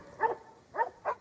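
Working dogs herding cattle bark in three short, sharp yaps spaced unevenly over about a second, close and clear with no talk.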